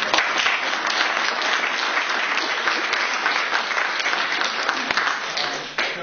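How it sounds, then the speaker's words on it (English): Steady applause from the audience at a community board public information session, an even wash of clapping that holds for about six seconds. "And I think we owe a round of applause for Mark and"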